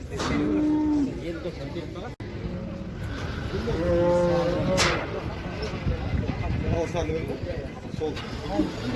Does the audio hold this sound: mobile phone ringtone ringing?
no